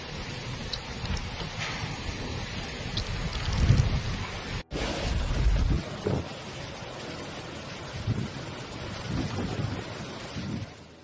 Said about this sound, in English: The storm is bringing dangerous winds with gusts reaching speeds of up to 215 km per hour.